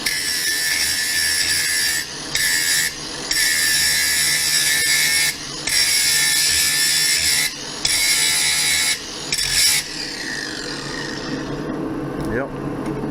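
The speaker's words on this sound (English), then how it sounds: "Got that new grinder he's putting to work." A new grinder runs loud and steady, its harsh high whine cutting out briefly several times as it works the material, with someone speaking over it near the end.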